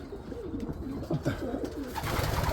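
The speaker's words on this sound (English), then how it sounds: "I've got a pretty good core of Black Widow birds that I'm going to race hopefully next year" Racing pigeons in a loft give soft, repeated cooing calls in quick irregular bursts, moderately close over a quiet room background, with no talking.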